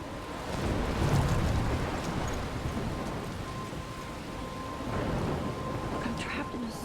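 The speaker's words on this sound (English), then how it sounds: "I'm trapped in a storm?" Stormy weather in the video game Life is Strange, a steady wash of heavy rain and wind with low rumbling thunder swelling around one second and again near five seconds, filling the whole stretch without talk.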